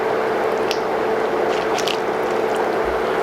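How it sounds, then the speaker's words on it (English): Pork sinigang being stirred after green chili peppers go in, a soft wet squishing and sloshing of broth close by, with a few faint clinks over a steady simmering hiss. "Just gonna give it a stir."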